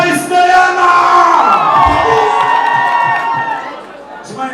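A concert crowd cheers and shouts loudly for a performing artist, a dense roar of voices with whoops that holds steady and then fades slightly near the end.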